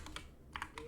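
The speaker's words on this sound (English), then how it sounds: "one downside to this better mic is you can hear my mouse clicking more in the typing" Computer keyboard typing with mouse clicks at a home desk: a few quick, crisp clicks and key taps in short clusters, close and fairly quiet, with no voice.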